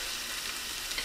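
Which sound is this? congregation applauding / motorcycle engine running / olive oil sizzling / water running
olive oil sizzling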